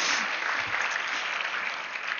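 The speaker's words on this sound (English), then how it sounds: "you can applaud that" An audience at an abortion-rights advocacy group's anniversary celebration applauds a line from a speech, a full burst of crowd clapping that stays steady for a couple of seconds.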